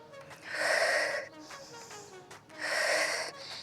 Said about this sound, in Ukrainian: Коли ви голосно дихаєте, ви контролюєте себе.